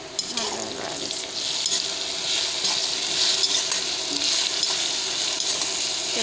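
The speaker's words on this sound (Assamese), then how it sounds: "ভালদৰে লৰাই দিছোঁ।" Onion with ginger-garlic paste being stirred in a frying pan, a steady close sizzle with scraping stirs running throughout, loud and continuous with no talk over it.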